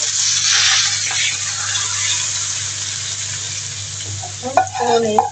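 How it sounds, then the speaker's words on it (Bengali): Dry spices crackling in hot oil in a kadai, a steady hissing sizzle with a faint low hum underneath and a brief burst of clatter near the end, close and fairly loud, no talking. "যে শুকনো মশলাগুলো রেখেছিলাম ওগুলো আমি তেলে ফোড়ন দিয়ে দেবো"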